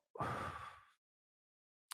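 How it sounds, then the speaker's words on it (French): One deep breath, close and soft, a single airy exhale lasting under a second and then silence. "Une respiration."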